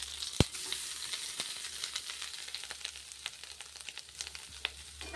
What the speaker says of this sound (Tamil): ஒரு கை அளவுக்கு போட்ட தேங்காவை வந்து நல்லா வதக்கி விடுவோம்